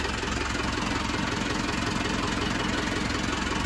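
A sailboat's engine idles with a steady, continuous low rumbling drone and constant loud vibration, no pauses or voices throughout.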